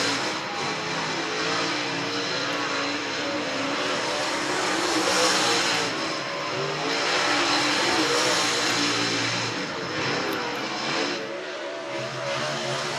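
Dirt track race cars roar around Needmore Speedway in Norman Park, Georgia, engines rising and falling in loud sustained waves as they pass, heard from a distance without talk.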